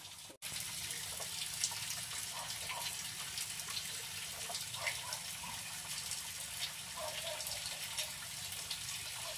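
Lambanog liquor dripping steadily from a still into a container that is nearly full, heard as a continuous close trickle with faint splashes and a brief cut near the start.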